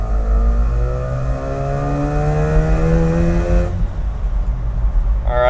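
A Mazda rotary-powered Japanese mini truck engine runs and revs up with a loud, rising tone, then drops back to a rough idle, close by.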